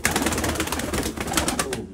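Pigeons cooing close by, a cluster of soft overlapping throaty coos repeating in quick succession along with rustling bird activity, fairly loud throughout.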